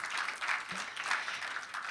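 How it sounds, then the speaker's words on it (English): Applause from a think-tank panel audience greeting a UK energy official, a moderate, steady patter of many hands, with no speech. "Big applause, please, for Damita."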